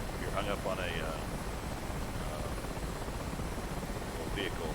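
A helicopter rotor in a military video game drones steadily and fairly quietly under the whole stretch, with brief chirpy game or radio tones near the start and end.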